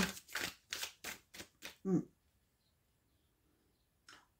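Tarot cards being shuffled in the hand, a quick run of six crisp riffling bursts over two seconds, then near silence and one short soft rustle as a card is handled.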